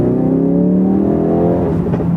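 A 2016 Ford Focus RS, a 350 PS hot hatch, accelerating from second gear, its engine note rising steadily in pitch as revs climb, loud and close with no talk over it.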